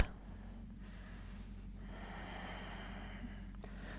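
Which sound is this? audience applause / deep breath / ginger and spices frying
deep breath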